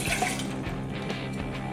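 Water pours into a pan for modak dough in a home kitchen, a soft continuous splashing and trickling stream, moderately close, with no voices.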